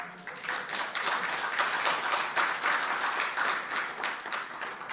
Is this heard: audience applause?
yes